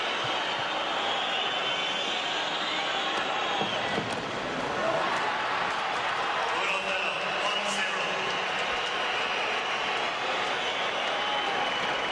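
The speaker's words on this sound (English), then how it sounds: "The crowd is still reacting to Roddick going up and telling Mike Morrissey that his serve was out." Tennis crowd murmuring and stirring in a stadium after Roddick disputes his own serve, a steady broad wash of voices and scattered claps with no single call standing out.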